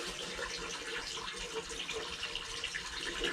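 Tap water runs steadily into a sink while someone washes their face indoors, a continuous close splashing hiss with no talking.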